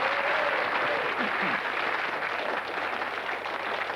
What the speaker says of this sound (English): the audience are cheering